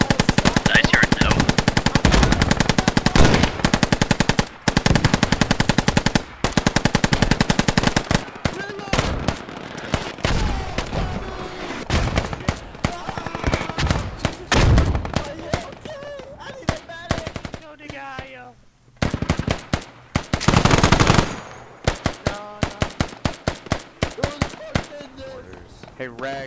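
Machine gun suppressive fire in the game Squad, long loud bursts of rapid gunfire rattling continuously, then breaking into shorter intermittent volleys, with players talking over it.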